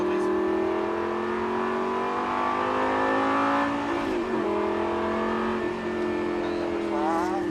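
A Lamborghini LP560-4 all-wheel-drive car accelerates hard around a track, its engine note climbing steadily and loud throughout, easing briefly near the middle before rising again, with an instructor's voice occasionally over the engine.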